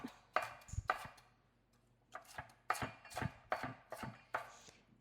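Onions being chopped with a knife on a board for Italian grinder sliders: quick bursts of sharp, close knocks in uneven groups, with brief pauses between them.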